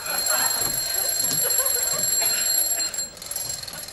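Alarm clock ringing early in the morning in a bedroom, a continuous loud electronic bell-like ring that cuts out briefly near the end, then resumes; no talking over it.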